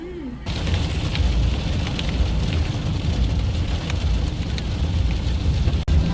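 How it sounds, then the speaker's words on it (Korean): Sudden heavy rain pours onto a car on an Arizona road trip near Sedona, a dense, loud, continuous drumming roar across the roof that starts abruptly after a brief voice. "생뚱맞게 갑자기 비가 쏟아져요"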